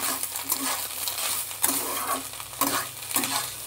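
Red chilli powder and other spices are stirred in a pan for thor ghonto, a banana-stem dish, with a soft sizzle and a few sharp scrapes of the spoon against the pan.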